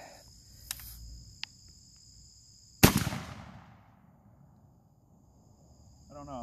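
An 8 gauge shotgun fires a single loud, sharp blast at a pan set on a log outdoors, followed by a long rolling decay, with faint clicks beforehand and insects chirping in the background.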